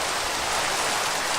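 Rain falling in a village-building video game, a steady dense hiss of drops on surfaces, even and unbroken with no voices.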